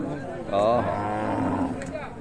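A cow at a temple fair lets out one long, loud moo that sustains most of the clip, close by, with faint background noise around it.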